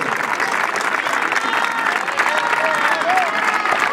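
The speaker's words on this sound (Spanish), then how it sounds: "Ese aplauso fuerte." Loud, steady applause from a crowd at a youth football club's team presentation, close and continuous throughout, with some cheering mixed in.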